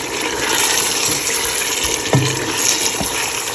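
Water pours into sizzling fried masala in a pan for a Lahori chicken curry, a steady rushing gush with a brief splash near the middle, close and moderately loud with no talking.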